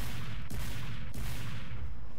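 Rapid gunfire in the video game Team Fortress 2, a dense, continuous volley of shots with sharp bursts near half a second and one second, loud and close.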